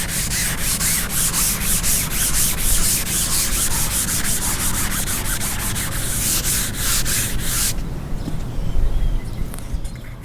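A car body panel coated with guide coat is dry sanded, producing loud, rhythmic back-and-forth scratchy rubbing strokes that carry on steadily and then give way to quieter handling noise.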